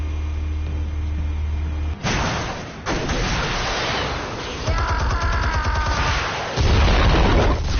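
Video-game explosives detonating as a string of heavy, close booms and rumbling blasts lasting several seconds, with a dense crackling burst near the end.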